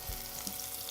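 Meatballs fry in a pan with a soft, steady sizzle and crackle, quiet and close, with no talking over it.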